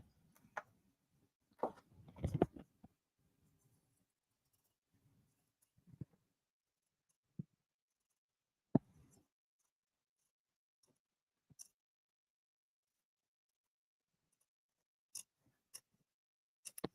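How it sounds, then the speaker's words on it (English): Scissors trimming stabilizer away from sewing fabric, heard as sparse, quiet snips and clicks scattered through a near-silent room, with a short cluster of closer cuts early on and isolated single snips later. "I'm just trimming the stabilizer away."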